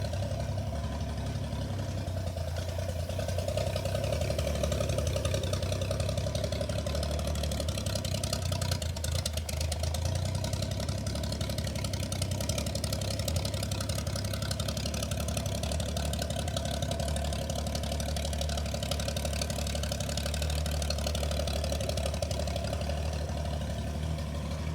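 An old abandoned Holden engine idles with a steady, low, even drone, running continuously at moderate level with no voices over it.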